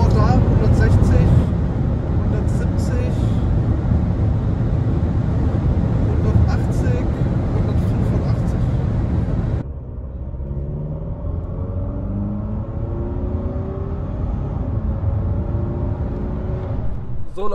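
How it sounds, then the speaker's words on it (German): A Volvo XC60 B5 diesel SUV accelerates from 130 km/h on the open road, loud wind and engine roar filling the cabin before settling into a quieter steady drone, with someone speaking over it. "ich gebe einmal bei 130 auf Gas und schaue, wie er sich so schlägt"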